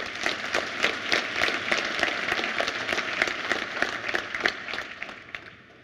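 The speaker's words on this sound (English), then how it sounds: "So let's give Jason another round of applause." At a tech conference talk, the audience gives a speaker a round of applause: lively, dense clapping with distinct individual claps, sustained for several seconds and tapering off at the end, with no voices over it.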